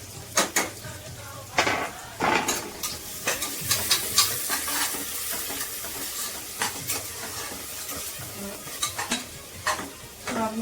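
Onions sizzle steadily in a pan for prawn rice while a spoon stirs them, with repeated scraping, clattering strokes over the frying hiss, close and alone.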